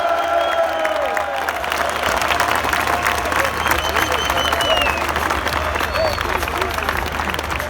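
A large roadside crowd applauds and cheers for Tour de France cyclist Mathieu van der Poel, a steady dense wash of clapping and voices that holds throughout, with an announcer's voice carrying over it.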